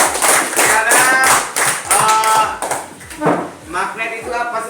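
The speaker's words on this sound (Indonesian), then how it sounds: "Ya, tepuk tangan dulu." A classroom of students claps in unison during a lesson, loud rhythmic rounds of sharp synchronized claps at a quick steady beat, close by, with voices audible among them.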